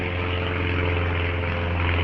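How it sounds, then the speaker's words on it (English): Small lightweight toy propeller plane droning overhead above a wooded park trail, a steady buzzing engine tone with strong harmonics held loud and unbroken throughout, no talking. "a toy plane, not a commercial. Pretty lightweight looking."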